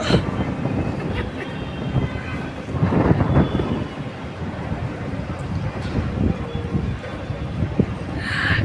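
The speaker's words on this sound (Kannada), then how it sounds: "ಎಷ್ಟು ಗಾಳಿ ಬರ್ತಾ ಇದೆ ಯಪ್ಪು" Strong wind roars and buffets the microphone in a steady, heavy rush, with gusts swelling and easing throughout.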